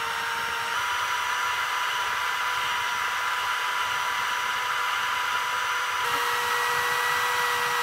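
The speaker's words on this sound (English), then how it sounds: "Then we're gonna get our drill and just stick it in the water" A power drill spins in a container of water to wash potatoes, whirring continuously at a steady pitch, a bright, even hiss with no voices, shifting slightly in tone near the end.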